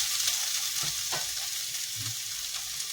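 A spoon stirs cashews into chicken curry in a hot pan, giving a continuous sizzle with soft, scattered scraping strokes, close and moderately loud.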